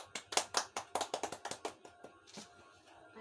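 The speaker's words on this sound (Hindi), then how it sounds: "उनकी स्वागतम के लिए ताली बजाएंगे।" A small congregation at a Sunday Christian prayer meeting claps to welcome a reader, a quick run of sharp, close hand claps that thins out and fades into scattered quieter claps toward the end.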